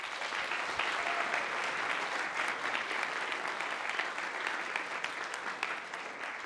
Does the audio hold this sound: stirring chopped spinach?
no